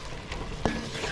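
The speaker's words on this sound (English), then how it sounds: "Onions are cooking down good." Onions sizzle in a pan on a Cajun stovetop while a utensil stirs them, with one sharp scrape or clink of the spoon against the pan amid the steady frying hiss.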